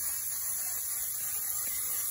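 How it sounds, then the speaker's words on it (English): Silicone spray hissing steadily from an aerosol can onto the chute of an Ariens Compact 24 snow thrower, a continuous close broadband spray with no pauses. "spray some silicone spray up and under here"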